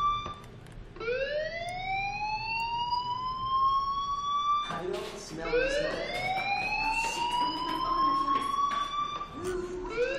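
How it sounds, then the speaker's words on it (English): A fire alarm wails in the video game Life is Strange, with repeated rising siren sweeps, loud and close, over a faint background. "Hey, do you hear that fire alarm?"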